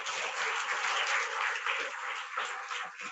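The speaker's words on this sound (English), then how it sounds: "Let us give a round of applause." Steady applause from a crowd of school students for Dr. Dheera at a training session, a dense unbroken patter of many hands clapping at moderate volume.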